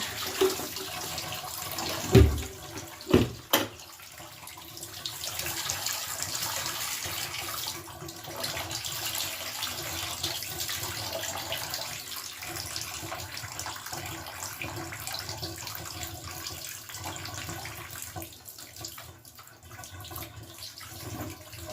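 Water drains steadily from a bathtub during washing of alpaca fleece, a continuous soft gurgling flow with a couple of sharp knocks near the start.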